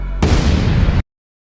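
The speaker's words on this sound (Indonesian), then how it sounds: "akhirnya bomnya meledak dan menghancurkan desa beserta isinya" A bomb blast destroying a village: a sudden loud explosive roar bursts in after a quiet moment, rumbles for under a second, then cuts off abruptly to silence.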